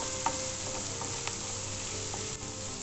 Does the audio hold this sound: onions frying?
yes